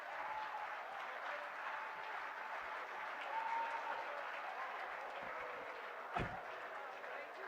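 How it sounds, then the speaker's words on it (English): Audience applause following a lecture at an annual lecture and awards event, a steady broad wash of clapping from a crowd throughout, with a brief louder clap burst near the end and a voice briefly audible underneath. "Please, another round of applause for him."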